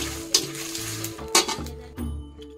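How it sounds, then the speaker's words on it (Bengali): Whole spices dry-roast in a dry kadai for a spice mix, with sharp metallic clinks and scrapes of stirring on the pan standing out over a faint background sizzle, close by and without talk. "ভাজা মশলার জন্য আমি এগুলো আগে ভালো করে ভেজে নিচ্ছি"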